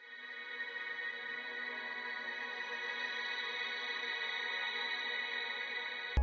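An ambient leaf texture passed through a G sharp minor chroma effect and a Blur White convolution reverb forms a sustained, even, tonal wash that hums softly and steadily throughout.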